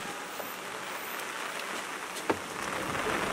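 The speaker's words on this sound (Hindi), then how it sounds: "बारिश हो रही है यार, भीग रहे हो तुम लोग," Steady rain falling outdoors, an even soft hiss throughout with one faint brief click partway through and no voices.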